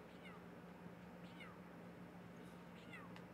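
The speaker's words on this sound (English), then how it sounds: "Oh, but I hear my cat. I hear my putty tat." Several short, faint meows from a cat repeat through the stretch, sitting in the background under a steady hum and low murmur of other sound.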